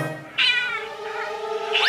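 A cat meows loudly and close, one long drawn-out cry followed by the start of another, with no talking around it.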